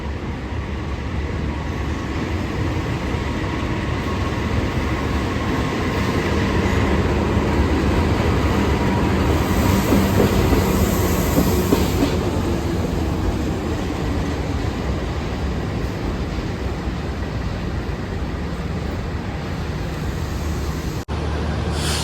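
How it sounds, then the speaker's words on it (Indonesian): A KA Komuter Supas commuter train pulls into a station, a loud continuous rolling rumble of wheels on rail that swells slightly midway and holds steady to the end, with no talk over it. "Jalur 2 ini ada kereta api yang masuk KA Komuter Lain Supas dari Pasuruan dengan tujuan akhir stasiun Surabaya Kota"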